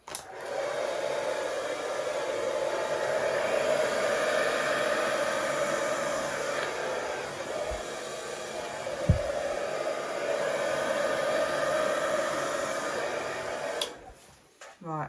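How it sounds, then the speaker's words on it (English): A hairdryer blows steadily over an acrylic Dutch paint pour for about fourteen seconds, a continuous broadband roar that cuts off near the end, with faint background speech. "I'm wondering if I should just use my hairdryer to do one more blow in that direction"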